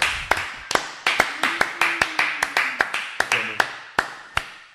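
A small round of applause at a podcast taping: a few people clap in sparse, uneven bursts, close and crisp, over faint voices and a low hum.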